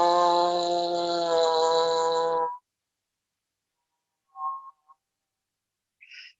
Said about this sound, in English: when I'm buzzing, I like to slide in between the notes